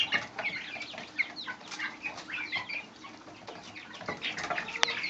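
Young chicks cluck and chirp in a busy, overlapping chorus, close by, with scattered short calls and a brief flutter of activity.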